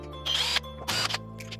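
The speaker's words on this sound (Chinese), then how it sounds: "也是先把固定螺丝拧下来" Fixing screws being unscrewed from the casing of a new, tightly assembled cylindrical floor-standing air conditioner, likely with a power screwdriver: two short whirring bursts close by, with quiet pauses between them.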